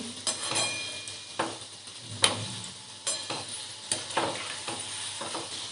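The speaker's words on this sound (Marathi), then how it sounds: "कचोरी तळताना अजिबात घाई करायची नाही" Hot oil sizzles steadily as kachoris deep-fry, with sharp bubbling bursts and occasional scrapes breaking through at irregular moments.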